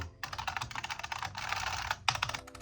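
Typing on a Unicomp Mini M, a modern compact buckling-spring Model M keyboard: a close, rapid, steady stream of loud clacky keystrokes with no talk.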